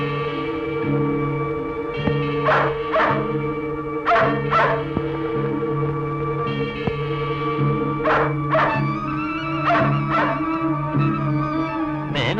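A pet dog named Tommy barks in short paired bursts, several times over, moderately close, while steady music plays underneath.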